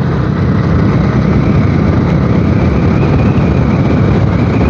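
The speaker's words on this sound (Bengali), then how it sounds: "আজকে এবার ফাটাফাটি বাইক রাইড হচ্ছে" Bajaj Dominar motorcycle engine droning steadily while riding on the road near Panagarh, loud and continuous with wind roar and no talking.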